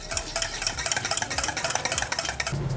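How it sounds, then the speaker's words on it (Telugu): Salt being stirred into whisked curd in a pot for buttermilk rasam, a steady run of soft scraping, clinking strokes close by, repeated through the whole stretch. "ఉప్పు వేసుకుని దీన్ని కూడా బాగా కలిపేసుకుందాం."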